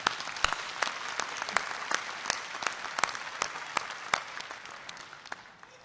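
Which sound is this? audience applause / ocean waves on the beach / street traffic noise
audience applause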